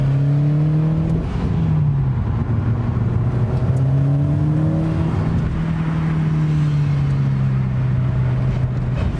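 A turbocharged Subaru STI engine with equal length headers drones and shifts pitch as it revs and settles, with a continuous mechanical hum, wind-like hiss and blow-off valve noise throughout.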